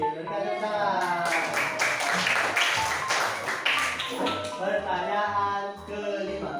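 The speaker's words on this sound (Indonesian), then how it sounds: "Ya, benar, rakit. Berikan tepuk tangan." Children in a classroom clap together in a dense burst, with voices chanting or calling out over the claps, then the sound thins to scattered taps and talk.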